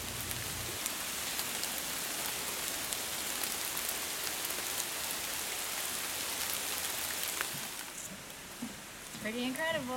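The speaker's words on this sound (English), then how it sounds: "I don't know if you can hear the raindrops, but it's raining here at Cinnamon Plantation ruins" Rain patters steadily on leaves at the Cinnamon Plantation ruins in a tropical forest on St John, a loud, close, even hiss that eases near the end as a few brief chirps or voices break in.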